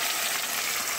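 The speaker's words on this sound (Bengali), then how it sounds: "দেখুন পোস্ত আর এটা আমি একটু ভেজে নিচ্ছি।" Poppy seeds and peanuts fry in oil in a pan, giving a steady, even hiss that stays constant over one short second with no voices.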